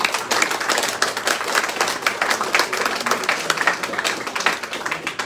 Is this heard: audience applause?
yes